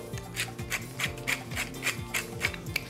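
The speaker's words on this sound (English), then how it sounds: "lifting the bottom of the eggs off the pan, scraping them into the center of the pan" A spatula scrapes eggs across the bottom of a frying pan for a frittata, making quick rhythmic scraping strokes close by, about three per second.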